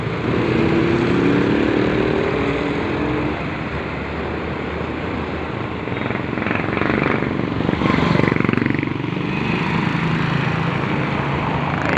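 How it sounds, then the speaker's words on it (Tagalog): Road traffic with motorcycles and cars passes on a congested route between Libmanan and Pamplona, a loud continuous engine drone with a nearby motorcycle swelling past midway. "Ayan ang traffic."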